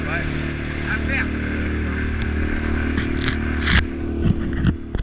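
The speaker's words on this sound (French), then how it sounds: "on avait un petit moteur 6 chevaux pour traverser" A small 6-horsepower outboard motor pushing a boat across flat water in Norway, a loud steady droning hum throughout with people talking and some clattering over it.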